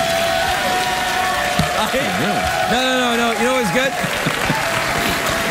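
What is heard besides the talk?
studio audience applause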